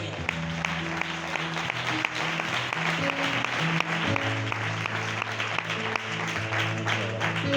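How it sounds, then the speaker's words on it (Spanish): A church congregation claps loudly during a Spanish-language worship service, with steady dense applause running under sustained keyboard or organ music for the whole stretch. "Den un fuerte aplauso al Señor."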